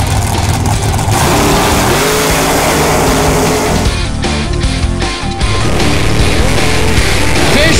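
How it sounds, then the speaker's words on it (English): Drag racing cars launching side by side on a strip, a loud sustained engine roar with harsh revving and tires rattling, dense and close throughout with a brief dip midway before the roar resumes. "Fisher rattles the tires on the summit side, and Fisher will run 7-11"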